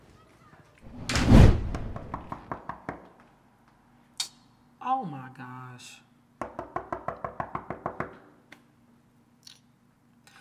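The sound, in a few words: knocking on a door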